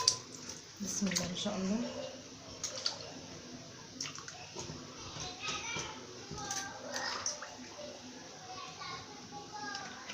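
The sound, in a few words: water poured in to make brine for chicken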